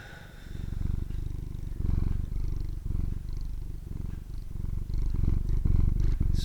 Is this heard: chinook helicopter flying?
no